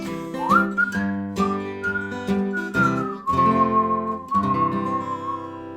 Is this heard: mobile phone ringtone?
no